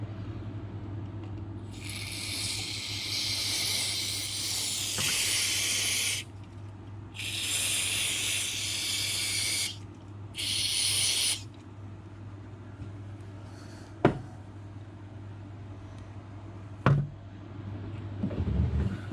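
Brake cleaner sprayed from an aerosol can onto a Husqvarna 350 chainsaw carburetor, several close loud hissing bursts of a few seconds each separated by pauses, followed by a couple of sharp clicks over a low steady hum.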